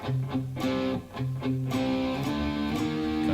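Distorted electric guitar power chords ring out in short chugging bursts, sliding between shapes down to a D5, played fairly quietly without any voices.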